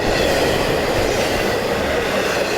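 A train rumbles past on nearby railroad tracks in a broad, steady roar that stays loud throughout, with faint rhythmic clatter from the wheels and no voices.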